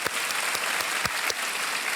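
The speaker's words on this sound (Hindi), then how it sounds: "तालियां बजती रहें" A studio audience on the Indian quiz show Kaun Banega Crorepati applauds in a sustained burst of clapping. Individual claps stand out at a steady moderate level, with no talking.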